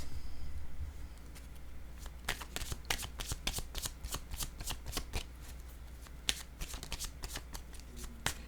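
Oracle cards are shuffled by hand at close range, producing a steady run of crisp, rapid riffling and flicking snaps that continue for several seconds without speech.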